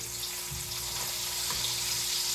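Lemon slices fry quietly in a pan, a soft, even hiss heard at a distance with a faint steady hum beneath and a couple of light low knocks.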